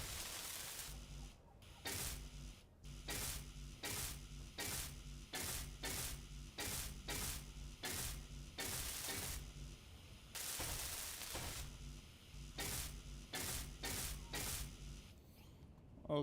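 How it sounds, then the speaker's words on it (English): Welding tool in the video game Space Engineers, heard as a steady mechanical buzzing drone broken by repeated short bursts and gaps, loud and close with no talking. "Let's weld this thing up."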